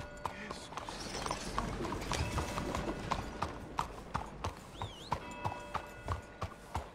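Horse hooves clip-clop on hard ground in a steady, fairly close rhythm of sharp knocks, with a busy background hum and a brief whistle-like sweep partway through.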